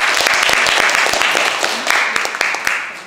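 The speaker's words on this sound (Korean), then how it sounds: "박수 한번 보내주세요." Audience applause at a Korean talk concert honoring the poet Yi Yuksa in Mungyeong, loud close sharp claps standing out from a dense crowd of clapping, with a voice briefly underneath.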